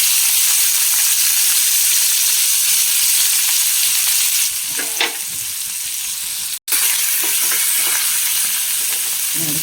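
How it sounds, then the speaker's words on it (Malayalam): Sliced onion and curry leaves fry in coconut oil, giving a steady close sizzle across the whole stretch with a few soft stirring scrapes and brief clicks partway through, no voices. "കുറച്ചുകൂടി വെളിച്ചെണ്ണ ഒഴിച്ചു കൊടുക്കാം ഉള്ളിയും വേപ്പിലും ചേർത്ത് വെച്ചു"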